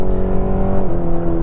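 A 2023 Cadillac CT4 with its 310-horsepower 2.7-liter four-cylinder revs hard under acceleration, a loud steady engine drone with strong tonal harmonics and a pitch drop near the end as it shifts.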